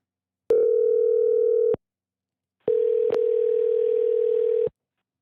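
Ringback tone on a phone call waiting to be answered, two long steady tones separated by a gap of silence, loud and close with nothing else around them.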